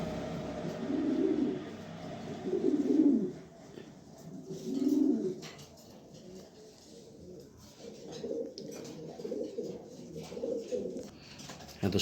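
A female pigeon coos in a series of low, throaty calls, near and fairly soft, repeating in rounded bursts with short pauses between them.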